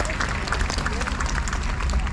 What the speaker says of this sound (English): round of applause for Renee